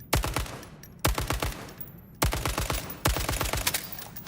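Gunfire in ALARA Prime: four loud bursts of rapid automatic shots, each a quick string of sharp cracks separated by short pauses.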